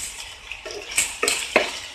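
A pan lid lifts off cooking capsicum chicken with a few soft metallic clinks and scrapes, quiet and close, with a faint sizzle of frying underneath.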